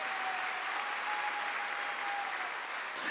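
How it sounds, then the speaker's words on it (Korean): A church congregation gives a sustained round of applause during a pastor's sermon, an even, continuous patter of many hands heard at a distance and fairly quiet, with no voices over it. "박수"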